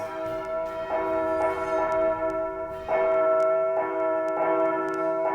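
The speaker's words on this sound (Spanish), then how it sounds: "las campanas de la ciudad repicaban como todas las tardes" Church bells ring steadily and close, overlapping peals swelling in repeated waves with a bright, sustained ring and no voices.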